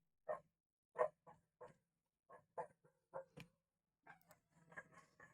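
Several dogs in the video game GTA Vice City Stories bark in a run of sharp, separate yaps and woofs, a few at a time, fairly faint against a quiet background.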